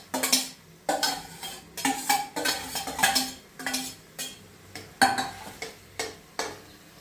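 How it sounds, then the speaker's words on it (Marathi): A spoon or ladle scrapes and stirs cooked rice through a boiling spinach mixture in a pot for palak rice, with repeated rhythmic strokes and clinks at close range and no talking. "आता ह्याला उकळी आलेली आहे, त्याच्यामध्ये आपण हा सुट्टा जो भात झालेला आहे तो आपण मिक्स करून घ्यायचा आहे"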